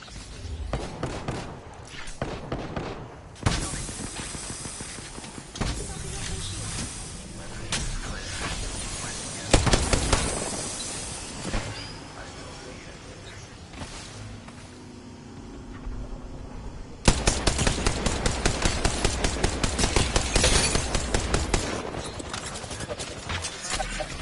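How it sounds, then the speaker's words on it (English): Gunfire in the Apex Legends battle royale shooter, with repeated shots and bursts throughout, including a long rapid string of close, loud automatic fire near the end, mixed with other game sounds and in-game voice lines. "Getting shot at."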